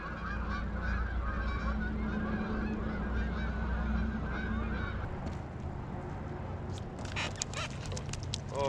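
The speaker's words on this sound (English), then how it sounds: "And the geese can go south any day now." Geese honking on a frozen lake during winter ice fishing, a steady chorus of overlapping calls at moderate distance over a constant background, with faint rustling and a few sharper clicks toward the end.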